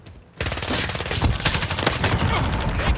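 Rapid automatic gunfire in a first-person military shooter, a loud sustained burst that starts abruptly and rattles on continuously.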